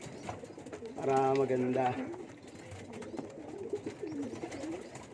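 Pigeons, including dark-coloured birds, coo in a strong, steady call for about a second while feeding on food mixed with taho syrup, with a person talking nearby and more soft cooing and bird sounds continuing under the speech.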